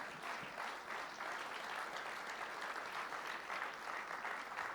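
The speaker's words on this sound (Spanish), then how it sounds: "De ese aplauso de alabanza al Señor." Church congregation applause of praise to the Lord, an even, continuous wash of clapping from a gathered crowd heard at a moderate distance, steady throughout without voices standing out.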